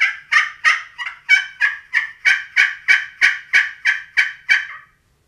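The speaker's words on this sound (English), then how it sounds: "when you're making your yelps, you're going to make small J's or small circles with the striker." A rapid series of about a dozen sharp, raspy turkey yelps from a Primos slate friction call worked with a striker, evenly spaced and close, with no other sound.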